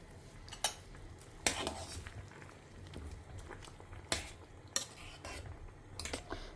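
Curry leaves stirred into a simmering pot of kuzhambu make a few sharp spoon-on-pot clinks and scrapes over a soft, steady bubbling.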